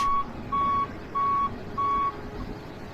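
A concrete truck reversing at a concrete pour site sounds its backup alarm: four evenly spaced, loud electronic beeps over low engine rumble, with no talk.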